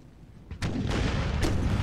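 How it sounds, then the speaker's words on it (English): Artillery fires in a Napoleonic-era battle in Napoleon Total War, with two sharp booming reports about a second apart and a loud rumbling roar that stays up after the first shot. Nobody speaks. "Both sides, I think, just using their artillery to shoot at each other."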